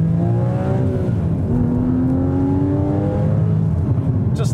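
A 2015 Porsche Cayman GTS engine revving and pulling hard through the gears, a loud close rising and falling engine note with smooth upshifts and no talk over it.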